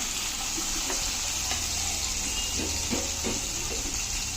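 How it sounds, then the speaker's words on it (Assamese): Water poured into a pan of cooking pork and fish curry with tomato, a steady close hiss and rush with faint bubbling and sizzle underneath, no talk. "এতিয়া আমি পানী দি দিম ইয়াতে।"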